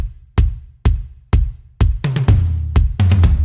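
A pop country drum groove in a steady four-on-the-floor pattern, with evenly spaced kick hits that fill out with snare and cymbal in the second half, loud and close with no talking.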